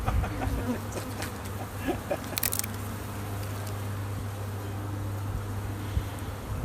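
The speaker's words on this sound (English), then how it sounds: "There's a bunch of bees right there" Outdoors near a large clump of a bee swarm, a steady low buzzing drone hums continuously, with faint background birds and a brief rustle partway through.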